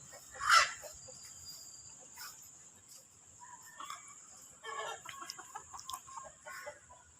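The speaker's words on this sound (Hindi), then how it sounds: "बहुत शरारती मुर्गे हैं।" Faint clucks and short squawks from a backyard flock of chickens and roosters, sparse at first and then a denser burst of calls near the end, distant over a steady background hiss.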